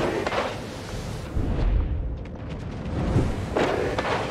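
Heavy naval gun booms from warships in a World of Warships clan battle roll out in several broadband blasts, loud but somewhat muffled and spaced a second or two apart.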